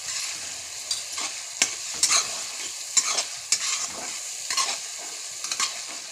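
Cumin and mustard seeds fry in hot oil for a pea and potato curry, giving a steady bright sizzle with scattered sharp crackles and pops and occasional stirring scrapes, close and alone without voices.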